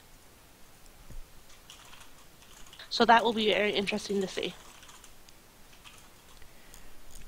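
Typing on a computer keyboard during a ranked League of Legends game session, a soft light clatter of keys running faintly under a person talking.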